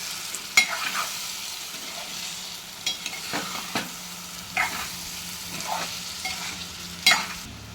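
Ridge gourd egg curry is stirred in a pan over a soft, low sizzle. A spoon scrapes and taps the pan every second or so, up close, and no one speaks.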